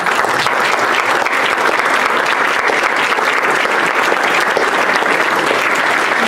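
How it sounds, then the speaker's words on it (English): Dense, steady applause from a large audience fills the room, continuous and loud as a woman named Kathy Humpherys is welcomed to the stage, with no speech over it. "give a big round of applause for Kathy Humpherys"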